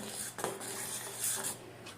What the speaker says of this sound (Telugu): ఈ కస్టర్డ్ ఇందులో వేసేసి బాగా మిక్స్ చేసుకోవాలి, లేదంటే ఉండలు కట్టేస్తుంది